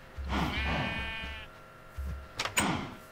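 A sheep in Minecraft gives a drawn-out bleat, then a second, shorter bleat follows after a pause, both fairly close and loud, with some clattering sounds toward the end.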